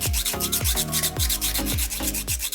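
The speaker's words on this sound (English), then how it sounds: "I go around with a nail file and sand down the rough parts" A nail file rasps back and forth over the rough edges of a heavy resin domino, about eight steady, close strokes in a regular rhythm with no voices.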